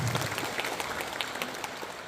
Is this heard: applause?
yes